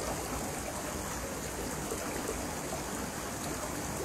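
River water flows through decrepit catacombs in Dungeons and Dragons Online, where falling water partly obscures the view. A steady, loud rushing wash continues unbroken from start to end, with no talking.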